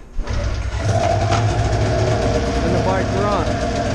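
An Arctic Cat EFI snowmobile engine idles with a steady low rumble close by, while someone talks over it.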